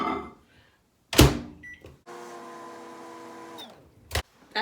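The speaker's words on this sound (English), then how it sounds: "microwave." A microwave oven heating a gas sample gives a sharp door clunk, then a steady mechanical hum for about a second and a half, and ends with a few sharp clicks.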